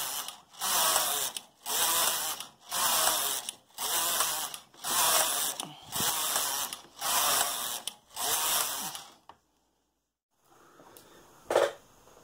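A Brother 8-button knitting machine carriage is pushed back and forth knitting rows, giving about eight loud, evenly spaced mechanical rasping sweeps, then a brief silence and a single clunk.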